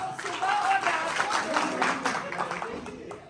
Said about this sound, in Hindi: सर के लिए तालियां बजाओ।